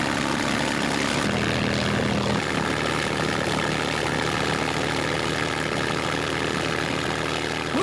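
A restored WW2 Rolls-Royce Merlin Spitfire engine of 1200 horsepower runs up to maximum power while chocked, a loud, sustained roar with a pronounced surge in the first seconds, then holds a steady, close, thunderous drone.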